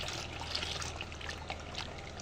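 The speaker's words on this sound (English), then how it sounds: "So you keep adding your water until you get your consistency." Water trickles and pours steadily into a multipurpose liquid soap mixture for a 4-liter batch, a continuous close splashing stream with no talk.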